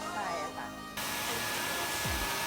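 A hair dryer blows to dry a sculpted clay craft, switching on suddenly after a moment of quieter background and holding a loud, steady rushing whoosh close by, with someone talking over it.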